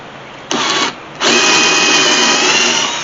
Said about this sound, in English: But to do that first, I need to drill holes.